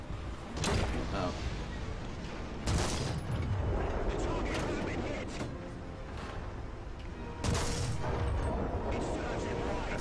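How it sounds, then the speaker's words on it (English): Tank cannon blasts and explosions from a War Thunder battle featuring a Panzer IV, several loud broadband bursts, with the biggest near 0.7, 2.7 and 7.5 seconds, over constant engine rumble and battle noise, with a voice talking throughout. "Explosions!"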